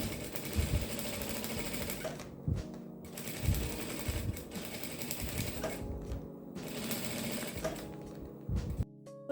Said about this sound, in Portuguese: e vamos costurar. Devagar, com cuidado.